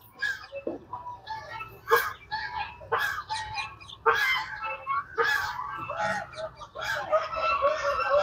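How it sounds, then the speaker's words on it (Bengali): Large Chinese geese gathered along a pond bank at a temple in Guwahati, honking and cackling in repeated loud, overlapping calls with short pauses between them. "অনেক বড় বড় রাজহাঁস, যেটাকে আমরা বলি চীনা হাঁস বা রাজহাঁস"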